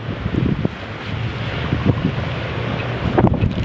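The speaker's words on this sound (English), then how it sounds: "40-mile-an-hour winds," Blizzard winds of about 40 miles an hour roar steadily in Ipswich during a January 2015 snowstorm, buffeting the microphone with broad rushing noise and gusty thumps, with no voices.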